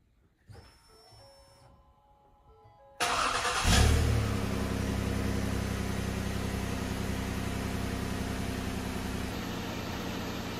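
2011 Ford with a swapped 3.5L engine, preceded by a few faint chimes and clicks, then a sudden start with a brief loud rev settling into a steady, close running engine rumble.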